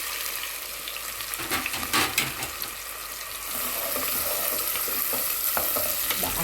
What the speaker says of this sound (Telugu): మంచిగా ఎర్రగా వేగాలండి మంచి కలర్ రావాలి బ్రౌనిష్గా అయిపోవాలన్నమాట